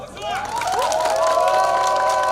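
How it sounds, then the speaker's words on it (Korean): Crowd at a Korean county governor candidate's first campaign rally cheering and applauding, with shouts and voices rising over a continuous wash of noise that holds loud throughout. "다시 한 번 더 큰 박수 부탁드립니다."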